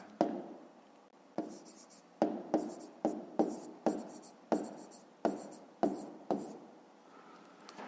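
Pen writing strokes on paper while working a decimal rounding exercise, a series of about a dozen short scratchy bursts in an uneven rhythm, close and fairly quiet with no voices.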